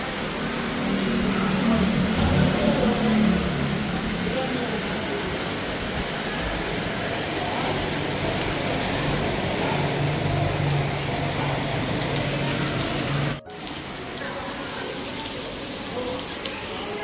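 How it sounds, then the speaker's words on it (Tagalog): Steady, dense rain pours down with strong wind in a continuous hiss, loud and close, broken by a brief dropout near the end. "Malakas po ang hangin dito mga kalangga, malakas na rin ulan."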